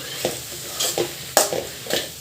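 Brinjal frying in oil in a pan, stirred now and then, giving a close sizzle with several soft scraping stirs in an uneven rhythm and no talk.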